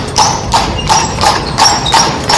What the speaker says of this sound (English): Another horse is coming.